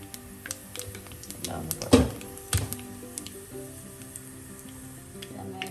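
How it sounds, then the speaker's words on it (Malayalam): Mustard seeds and fennel seeds crackle in hot coconut oil for a potato masala curry, with scattered sharp pops and a louder burst near the middle while a voice talks over them. "വെളിച്ചെണ്ണ ചൂടാകുമ്പോൾ മുക്കാൽ ടീസ്പൂൺ ഇട്ട് പൊട്ടിക്കണം അതോടൊപ്പം തന്നെ അര ടീസ്പൂൺ പെരുംജീരകം ചേർക്കും"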